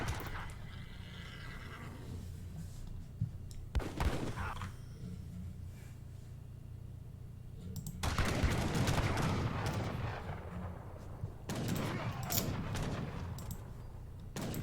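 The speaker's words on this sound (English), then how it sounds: "Getting some shots in with the dragoons." Bursts of musket fire from dragoons and cannon booms erupt in a real-time strategy game battle, with scattered single shots and then dense crackling volleys over a low ambient rumble.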